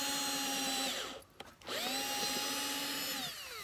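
A power drill bores a pilot hole through wood while building dog pen stairs, whining loudly and steadily, briefly stopping and dipping in pitch, then spinning back up and running again.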